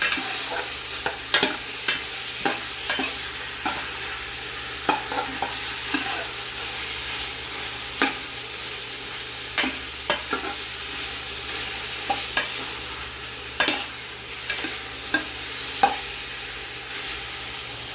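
Chicken sizzles in a pan with garlic, onion and ginger for tinola, a steady frying hiss broken by repeated scraping stirs of a utensil against the pan at an irregular pace.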